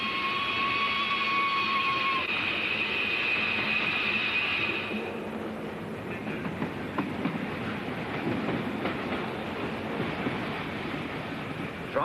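Flying Scotsman steam locomotive slowing on its approach to Brighton station, a loud continuous rumble and rush of the moving train with a high whistle tone early on that fades as the train eases off.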